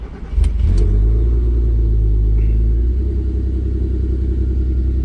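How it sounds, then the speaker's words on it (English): An Audi TT 3.2 8N engine cranks briefly, catches, and settles into a loud, steady low idle rumble close by. "start the car up and see if that light's gone"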